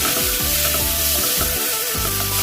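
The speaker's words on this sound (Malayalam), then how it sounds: "ഒരു 10-15 മിനിറ്റ് കൂടുതൽ നമ്മളിത് വഴറ്റി കൊടുക്കണം." Sweet potato pieces sauté in a pan with oil, just after raisins were fried, while being cooked down for sweet potato kheer. A steady close sizzle runs throughout with the scrape of stirring.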